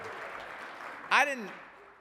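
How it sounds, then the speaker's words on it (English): Applause from the audience at a firefighters' union legislative conference: dense, steady clapping for about a second, then a single voice speaks as the clapping fades. "Clap your hands if you're not wearing a tie."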